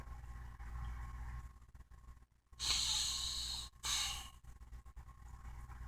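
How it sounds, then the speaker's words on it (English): Close, audible human breaths: a long, heavy exhale followed by a shorter second breath, each a soft rushing hiss over a quiet background hum. "I'm breathing, taking in oxygen."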